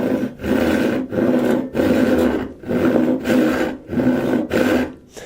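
A hand saw cuts through wood in steady back-and-forth strokes, about six rasping passes with short pauses between them, loud and close.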